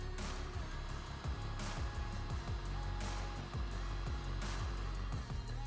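Machine spindle spins steadily with a constant loud mechanical whir and a faint repeating rhythmic ticking, while its speed is checked with a tachometer.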